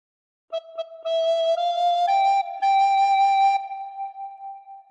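A recorder plays a short melodic phrase from The Star Spangled Banner, clear single tones with breathy attack, several notes in sequence ending on a held pitch, close and alone.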